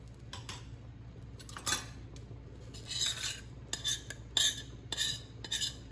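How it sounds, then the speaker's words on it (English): A spoon stirring mashed sweet potato into a simmering beef rib stew in a pot, with repeated metallic scrapes and clinks in short bursts against the pot, close up and without talk. "I'm gonna put it in here and stir it in"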